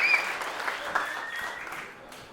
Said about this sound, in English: Round of applause to everybody for that.